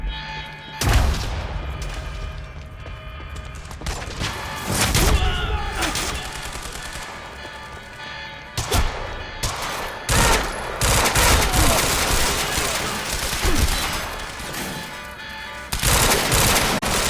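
Sustained gunfire in the shooter Quantum Break, dense automatic bursts and heavy shots coming in waves with brief lulls, loud and close the whole way through.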